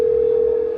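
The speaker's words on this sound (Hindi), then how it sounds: "राजेश्वर ने तुरंत अपना फ़ोन निकाला और एक नंबर लगाया।" A telephone dial tone: a steady, unbroken mid-pitched hum that holds at even loudness for under a second, heard alone.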